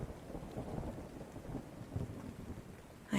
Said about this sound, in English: the pitter-pattering of the droplets pound in my ear